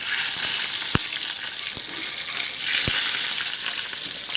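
Eggplant pieces sizzle and crackle loudly in hot oil in a home kitchen while an eggplant moussaka tray is being made, a steady frying hiss with a few sharp pops.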